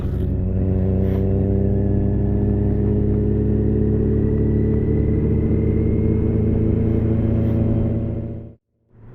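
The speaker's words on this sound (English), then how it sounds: "there was a load of army trucks leaving. And we've just caught up to one by the looks." Army truck driving on a bush road just ahead, heard from a following motorbike as a steady, loud engine rumble and whir mixed with wind, running evenly for about eight seconds before cutting off abruptly.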